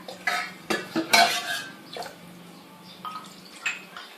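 Water being filled into a cooking pot while making candied bananas, with a run of sharp metallic clanks and clatters of pots and utensils near at hand, busiest early then sparser knocks, no talk.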